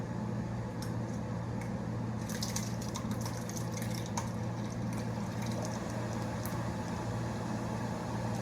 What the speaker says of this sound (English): So I'm going to strain right into this bowl using this strainer.